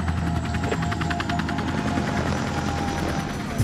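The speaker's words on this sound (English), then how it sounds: "Rescue chopper to base." A rescue helicopter over an island during a disaster response, its steady loud rotor chop and engine drone filling the whole stretch with a continuous pulsing roar and no voices.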